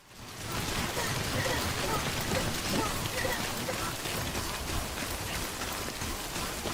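Steady rain in the video game Death Stranding, a dense, continuous hiss of falling drops that holds evenly throughout at moderate loudness, with no voice over it.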